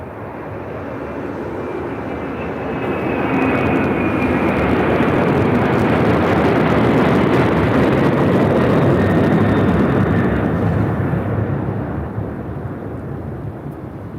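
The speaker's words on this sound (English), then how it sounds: "MD-11 rolling down 25 left" A 24-year-old FedEx MD-11 jet takes off on runway 25 left at LAX, its engine roar building to a loud broad rumble, holding, then slowly fading into the distance.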